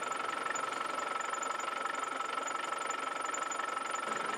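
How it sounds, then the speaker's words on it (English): A vehicle engine runs steadily at a warm-up idle in a workshop during a cooling system flush with prep fluid, giving a constant, moderately loud hum with no pauses and no voices. "let's run the vehicle up so it's nice and warm now"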